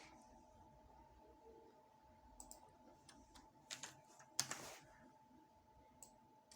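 Several quick keyboard clicks from typing in a spreadsheet, with a sharper keystroke near the middle like Enter being pressed, faint and close over a quiet room hum with no talking.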